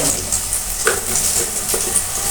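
Fenugreek seeds fry in hot oil with a loud, steady sizzle, broken by two or three brief scraping stirs of a spoon in the pan.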